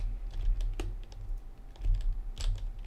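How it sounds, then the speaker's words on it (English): Someone typing on a computer keyboard, a quick irregular patter of key clicks for about three seconds, close and fairly soft, with no talking. "Looks like Tacos is typing something."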